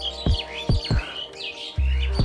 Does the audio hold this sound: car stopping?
no